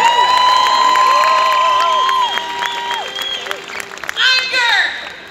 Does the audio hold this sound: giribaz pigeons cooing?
no